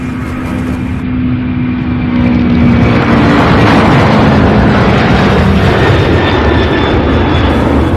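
Jet airliners, including UPS cargo planes, roar on takeoff from Louisville International Airport, a loud continuous engine rumble with a rising whine that swells and holds, heard alone without talk.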